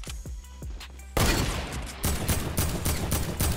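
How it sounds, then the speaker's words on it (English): Gunfire in Fortnite, from other players and the player's own assault rifle, with rapid bursts of loud cracking shots in quick succession, close and dense, without talk. "I just heard some people shooting"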